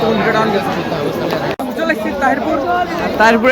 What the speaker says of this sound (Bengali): ঠিক ভিড়টা দেখো ভাই কেমন ভিড়